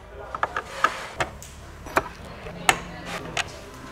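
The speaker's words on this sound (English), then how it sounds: "I've grabbed a T15 screwdriver and we're going to undo these 4 screws" A T15 screwdriver works on the screws of a VW Crafter wing mirror, giving a scattering of sharp, close clicks and small ratcheting taps at irregular intervals over a quiet background.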